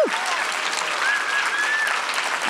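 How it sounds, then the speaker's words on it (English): Audience applause at a women's global health leadership event at Stanford, a steady wash of clapping from a sizable crowd that holds evenly throughout, with a faint whistle-like tone riding over it. "I love this round of applause for all of our emerging leaders"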